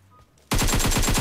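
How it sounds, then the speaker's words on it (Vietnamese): Rapid automatic gunfire erupts abruptly in a PUBG Mobile match after a quiet moment, a loud, steady burst of closely spaced shots. "Mình nghĩ chắc là một team bắn bot đề."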